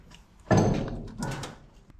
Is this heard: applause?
no